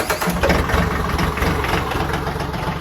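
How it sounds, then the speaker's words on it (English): A Branson 2515 tractor with a 25 horsepower engine idles steadily close by, a rough, low, throbbing diesel-like chug with a continuous mechanical rattle, no voices. "Branson tractor, 2515, 25 horsepower, does everything we need it to do"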